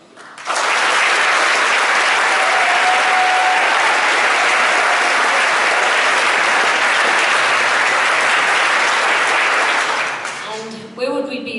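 Sustained applause from a concert audience for a choir, loud and dense from start to finish for about ten seconds, then thinning into scattered claps and stray voices at the end.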